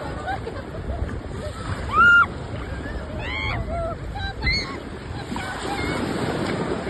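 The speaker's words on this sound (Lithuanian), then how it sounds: "Labai didelės bangos." Big sea waves breaking on a shore in Turkey make a steady wash of surf, with wind noise and a few brief voices heard over it.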